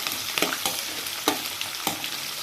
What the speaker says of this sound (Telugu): ఇప్పుడు ఇవన్నీ మంచిగా ఫ్రై చేసేసుకుందాం.